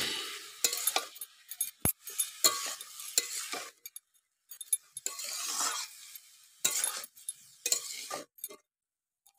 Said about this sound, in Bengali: দেখুন আমি লাউগুলো সব দিয়ে দিয়েছি, এবারে আমি নেড়ে নেব।